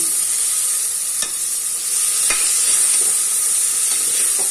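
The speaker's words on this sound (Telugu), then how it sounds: "కలుపుకున్నాక ఈ టమాటా ముక్కలు వేసి ఫ్రై చేసుకోవాలి" Tomato pieces fry in a pan with a loud, continuous hiss and sizzle, while a few faint scrapes mark the stirring; no one speaks.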